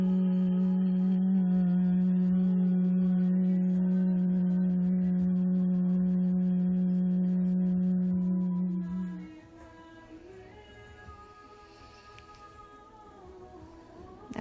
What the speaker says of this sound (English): just hum the exhalation out